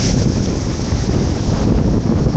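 Strong wind buffeting the microphone at a beach where waves smash the rocks, a constant loud broadband roar with no pauses and no voices.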